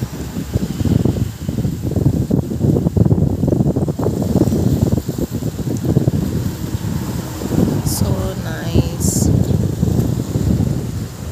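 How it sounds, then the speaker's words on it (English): Steady rushing water and wind buffeting the microphone, with waves washing around a boat and some faint voices in the background. "I like the sound of the water."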